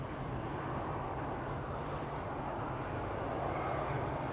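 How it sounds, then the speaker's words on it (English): A KLM Boeing 787-10 Dreamliner departing Amsterdam Schiphol gives a steady, broad roar of jet engines, holding level and fairly distant for the whole stretch without any voices. "That was KLM flight 879 to Bangalore, a 787-10 Dreamliner."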